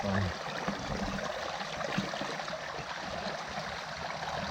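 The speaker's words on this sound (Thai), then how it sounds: "น้ำไหล วันนี้ฝนตก น้ำหลากนะครับช่วงนี้น้ำหลาก" Rain-swollen water rushes along a flooding stream in rural northeastern Thailand, a steady broadband wash of flowing water heard continuously at moderate distance.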